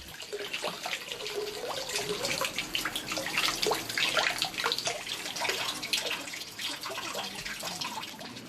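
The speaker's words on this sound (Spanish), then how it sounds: "antes de entrar hay que purificarse en una fuente de agua" Water from a purification fountain at a Shinto shrine runs and splashes steadily into a basin, a continuous close trickle with small droplet spatters throughout.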